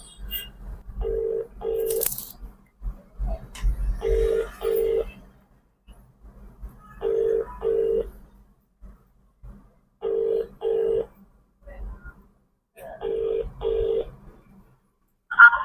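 An outgoing ringback tone repeats in evenly spaced double bursts, fairly quiet, with faint background noise between rings.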